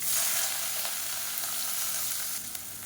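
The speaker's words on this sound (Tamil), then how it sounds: "இப்போ பாருங்கள் வெங்காயம் பூண்டு நல்லா வதங்கிருச்சு" Onion and garlic frying in oil with fennel seeds and dried red chillies for a black-eyed pea curry, a steady close hiss and crackle of sizzling with no voices.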